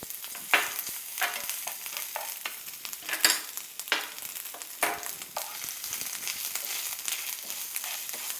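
Grated coconut sautéed in a pan for Navaratri beach sundal, a soft sizzle broken by repeated scraping and stirring strokes at close range, with no one talking.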